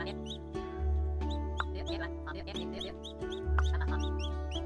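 Chickens cluck repeatedly in the farming video game Dinkum, with several short calls over a steady low in-game ambience and no talk.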